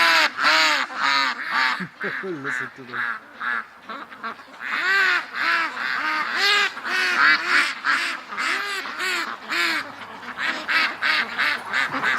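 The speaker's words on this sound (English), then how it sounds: "The yard is full of ducks." A yard full of ducks quacks loudly and continuously, many birds calling close by in overlapping bursts, with a person speaking briefly among them.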